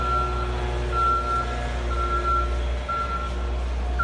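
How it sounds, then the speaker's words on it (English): A truck reverses with its backup alarm beeping at a slow regular pace over a loud, steady engine rumble outdoors, with no talk. "That's Mr. Perez's truck right there"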